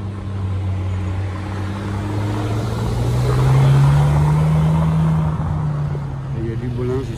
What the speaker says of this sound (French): Ferrari. Très jolie configuration gris.